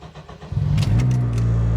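An Acura RSX Type S engine cranks briefly and catches, settling into a steady, loud idle hum close by with no talking.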